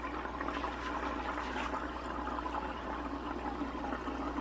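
A Hygger 5-in-1 internal aquarium filter (HG052) runs steadily, a continuous rushing, bubbling water flow with a low motor hum underneath, constant in level and without talk.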